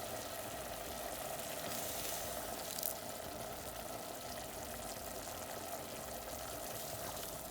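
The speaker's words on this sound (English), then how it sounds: "Now we're going to start adding ladlefuls of hot stock." Hot stock ladled into a pan of risotto rice for scallop risotto, giving a steady, even sizzle and bubbling hiss that holds at a moderate level throughout with a brief louder splash near the middle.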